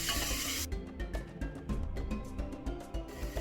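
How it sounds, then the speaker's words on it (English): Basmati rice being stirred and fried in a pan gives a run of quiet rhythmic scraping strokes over a soft sizzle, each scrape short and close. "Just stir it all together, just like that, and let your rice fry for a little bit"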